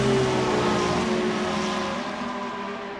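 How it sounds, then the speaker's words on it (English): Race car engines drone and rev steadily in the Assetto Corsa racing game as cars restart after a safety car period at the Japan Grand Prix, a loud continuous whine that eases slightly toward the end. "Safety car lights will go out, then we'll go green flag racing again."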